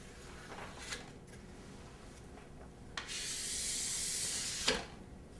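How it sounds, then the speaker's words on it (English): Excess wax is rubbed and scraped off the base and edge of an alpine ski in short dry strokes, then a longer steady hissing rub, quiet and close with no talk. "Make sure you always remove any excess wax on the edge."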